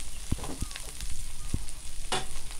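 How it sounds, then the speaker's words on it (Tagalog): String beans with chilli tipped into a hot pan with onion and garlic and stirred, a steady sizzle with a few sharp knocks and a scrape of the utensil against the pan. "ilagay na po natin yung ating sitaw na may sili po yan"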